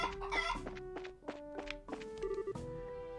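Game chickens cluck in short repeated bursts and a rooster crows amid a looping music track in Trails in the Sky SC, with the cartoonish fowl calls riding over tonal background chords.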